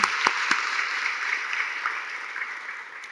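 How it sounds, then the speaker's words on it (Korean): A church congregation at a Sunday worship service applauds, a moderate, steady patter of many hands sustained for a few seconds with a couple of sharper claps near the start. "우리 다시 한번 박수 한번 치겠습니다."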